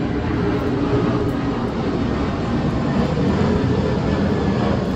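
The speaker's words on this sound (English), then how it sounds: "Plane is passing by." An airplane passes overhead as a steady, loud broadband roar with a low rumble that holds for the full five seconds, heard outdoors with no talking.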